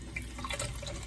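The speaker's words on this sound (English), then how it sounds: "The other option I can use is just water it directly from the sink." Warm water runs from a sink tap onto a potted Phalaenopsis orchid, a soft steady trickle and splash with faint dripping and no talking.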